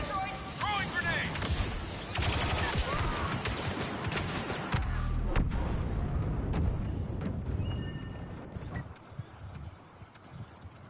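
Rapid gunfire and heavy explosive booms from a grenade in the Star Wars: Battlefront II video game, dense and chaotic for most of the stretch before thinning out near the end.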